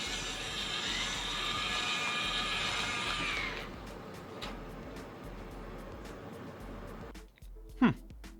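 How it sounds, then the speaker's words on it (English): SwitchBot Curtain 2 and Curtain 3 motors whir with a steady mechanical hum as they pull curtains, the drone stopping after a few seconds, followed by quieter clicks and a brief sharp sound near the end. "put the Curtain 2 and Curtain 3 in a head-to-head battle to see if the new motor really is more powerful"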